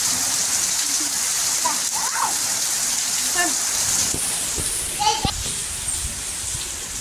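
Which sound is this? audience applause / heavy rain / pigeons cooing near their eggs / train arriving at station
heavy rain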